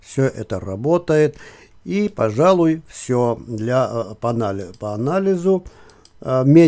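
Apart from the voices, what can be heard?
No everyday noises stand out.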